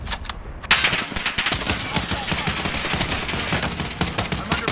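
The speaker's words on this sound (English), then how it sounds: "I'm under fire." Video game gunfire in a military shooter, with sustained rapid machine-gun bursts crackling loud and dense throughout and a faint voice barely present.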